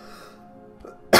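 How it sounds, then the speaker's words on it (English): A single sharp cough bursts out at the end, loud and close, after a quiet stretch of game background during a Skyrim play session. "I just had a random cough attack"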